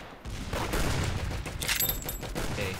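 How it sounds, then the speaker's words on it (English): Rapid gunfire from a sniper rifle in the Roblox game Arsenal, a dense run of sharp cracks and crackling shots, loud and continuous. "Oh, I love this sniper. I love how it sounds."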